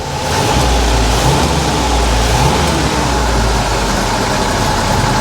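Willys Jeep engine idling steadily after an exhaust leak repair, a loud, even low rumble with no hiss, running alone without talk throughout.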